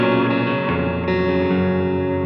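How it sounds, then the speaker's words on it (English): Sustained guitar note played through a Strymon pedal with a lush chorus and delay repeats, steady and thick with shimmering modulation and a fresh note entering about a second in, no talking. "you end up with a really lush chorus with some delay repeats"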